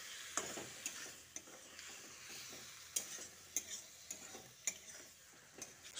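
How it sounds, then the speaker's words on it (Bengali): Mustard paste being stirred into flat beans in a pan, soft scraping strokes and light knocks over a faint continuous sizzle, fairly quiet and close, with no talking. "সর্ষে বাটাটা শিমের সঙ্গে ভালো করে মিশিয়ে নিচ্ছি"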